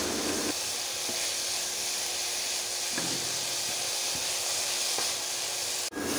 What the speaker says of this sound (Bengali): এগুলোকে আমি একটু বেশি সময় ধরেই ভেজে নেব